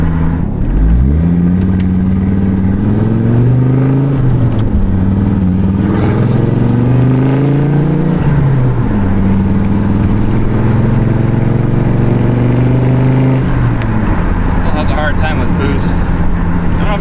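Audi Quattro engine while driving on a back road, a loud continuous drone rising and falling through gear changes and acceleration, with a person talking over it.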